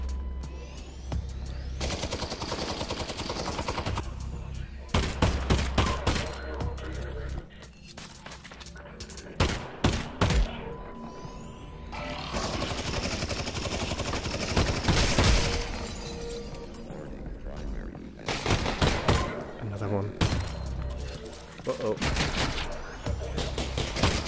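Gunfire from the VR shooter Half-Life: Alyx, dense bursts of loud shots and rattling fire with breaking impacts, recurring in clusters throughout amid constant game noise.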